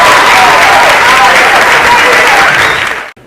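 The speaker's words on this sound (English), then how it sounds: "Let's give her a round of applause." Loud, dense audience applause at an awards event, sustained and close, then cutting off abruptly near the end.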